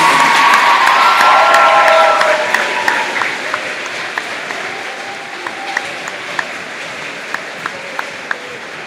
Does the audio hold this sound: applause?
yes